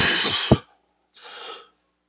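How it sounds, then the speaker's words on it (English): A person coughs sharply a couple of times, then after a short pause comes a softer breathy cough or throat clearing. "Sorry, having a bit of a coughing attack."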